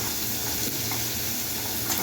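Finely chopped onion frying in oil with asafoetida while making a quick spinach dish, giving a steady, close, dense sizzle that runs evenly throughout with no talking.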